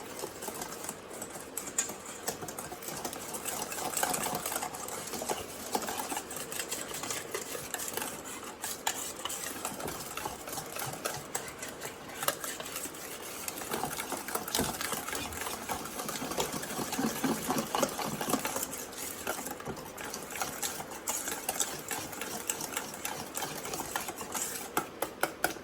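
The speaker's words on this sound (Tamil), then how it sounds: "அந்த கலந்த எல்லா வெட் இன்க்ரீடியன்ட்ஸ், அந்த பால், முட்டை, மெல்டட் பட்டர் எல்லாத்தையும் இதில் சேர்த்து இதில் வந்து மிக்ஸ் பண்ணிகிட்ருக்கோம்" Chocolate cake batter of milk, eggs and melted butter being mixed, a steady rapid whirring and rattling of beating against the bowl that runs on without a break, fairly quiet and close.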